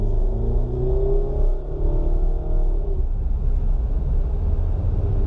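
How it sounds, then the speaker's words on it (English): A 2019 Honda Fit EX with a CVT revving up during a paddle downshift, a steady in-cabin engine drone with a rising, sweeping tone over road rumble, no talking. "if I want to go a little bit faster, just downshift, and the computer does it all for me instantly"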